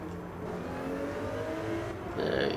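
A race car pulls out of the pits at the Nurburgring in a racing video game, a steady engine whir and drone holding throughout, swelling slightly louder near the end.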